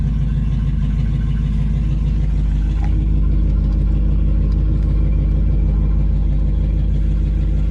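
Inside a car, the heater blower fan runs with a constant airy roar, blowing toward the floor, over a low steady engine rumble. It stays loud and even throughout, with no talk.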